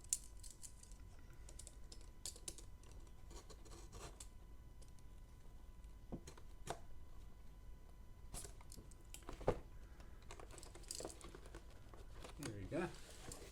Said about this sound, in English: let's cut the tape